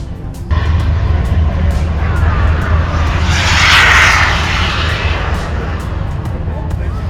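Radio-controlled model aircraft with a diesel-fuelled turbine engine producing 19 pounds of thrust, flying past in a tail chase at an airfield: a loud, steady roaring rush that swells near the middle and then eases slightly.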